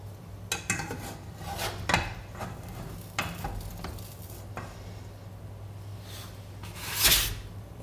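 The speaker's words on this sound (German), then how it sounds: "Ich habe das Brot jetzt rausgehoben und stülpe meine Pfanne über das Brot" Bread cooked in a frying pan on a stovetop: several clanks and knocks of metal cookware in close succession, light handling sounds and a faint sizzle under a steady low hum.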